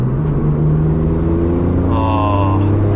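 A Mitsubishi Galant VR-4 twin turbo V6 pulls hard under boost, its loud engine note climbing steadily in pitch, with a faint turbo whistle rising near the end.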